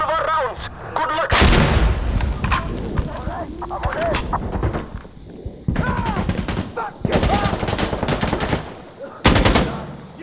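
Artillery barrage in the shooter game Insurgency Sandstorm, loud booming blasts and rapid gunfire bursts coming in heavy waves with short gaps between them, with a high electronic whine running through and voices shouting under the din.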